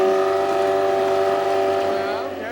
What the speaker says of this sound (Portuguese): Com o motor de barco comum, a casa pode rodar mais de 50 quilômetros num dia